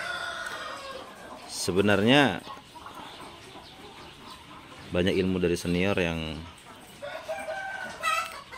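Chickens raised from a home hatchery make loud, harmonic, drawn-out calls in two main bursts, with a fainter call near the end, while someone speaks Indonesian beneath and between them.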